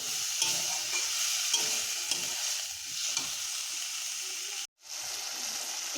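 Spice paste seasoned with salt sizzles and sputters in a pan, a close, continuous hissing fry with occasional stirring scrapes and a brief silent gap near the end.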